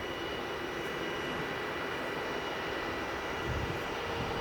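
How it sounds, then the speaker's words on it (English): A 20-year-old Airbus A320 airliner taxis at Manchester Airport, its engines a steady, fairly distant broadband roar that holds even throughout without voices. "Now taxiing in is this Airlines Airbus"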